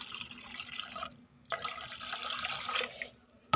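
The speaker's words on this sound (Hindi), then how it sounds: "पानी डाल रही हूँ" Water being poured into a container to dissolve a crushed aspirin tablet, a steady close splashing stream that breaks off briefly, resumes, and ends with a small clink.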